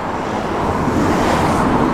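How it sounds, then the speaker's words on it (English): Passing road traffic beside a roadside gathering of old lorries, a loud, steady, close wash of tyre and engine roar with a windy rush. "trying not to get flattened by the passing traffic"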